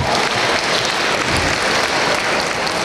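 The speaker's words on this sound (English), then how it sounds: "Parents and supporters, please give the young people a round of applause for their amazing work." An audience of parents and supporters applauds students at a science fair awards ceremony, a dense, steady wash of many hands clapping loudly without a break.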